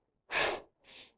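A hiker breathes hard on a mountain trail, one strong exhale followed by a softer second breath, close to the microphone with no talking.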